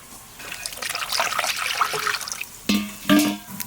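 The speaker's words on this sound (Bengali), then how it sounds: "এই হলুদ জলে ভালো করে ধুয়ে নেবো" Thinly sliced tender green banana is washed by hand in turmeric water. It makes short splashing and trickling sounds, with a couple of louder sloshes near the end and no talking.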